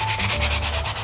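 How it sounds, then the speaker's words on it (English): Steady, close scratchy rasp of sandpaper worked over the edges and corners of a rustic wooden snowflake sign, rubbing in even back-and-forth strokes with no talking. "so I think I've sanded it all I want to sand"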